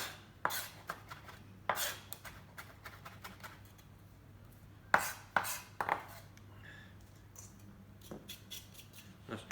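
A chef's knife rocks through coriander on a board, giving sparse sharp chopping taps in small clusters, close but fairly quiet, with no talk.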